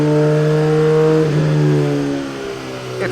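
A 2017 Suzuki GSX-R1000 motorcycle engine runs on a dyno, holding a steady, loud harmonic drone that shifts pitch slightly midway and eases off toward the end, with no voices.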